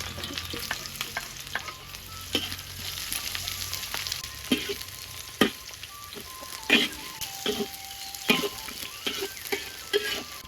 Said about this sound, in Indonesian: iki bumbune mie iris digoreng, digoreng